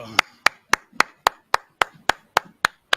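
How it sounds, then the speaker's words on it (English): Sharp, evenly spaced claps ring out during a class session, about eleven crisp strikes in a steady beat, clear and fairly close, without talk. "clap it up"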